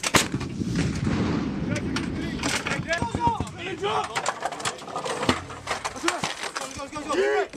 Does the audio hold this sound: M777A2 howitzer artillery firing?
yes